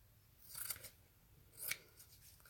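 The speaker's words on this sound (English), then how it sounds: "And I'm going to trim this off." Two quiet snips of scissors trimming off excess material, close by and distinct, about a second apart, with a fainter third cut after them and no talking.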